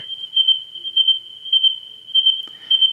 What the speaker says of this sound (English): I also used crickets, a close chirp cricket.